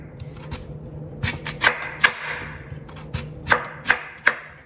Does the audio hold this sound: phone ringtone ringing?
no